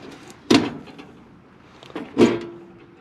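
Fabricated glove box door on a Volkswagen rally car with an unfixed hinge, two distinct knocks of the door swinging shut about two seconds apart, the second with a brief ringing tail, fairly close with quiet between.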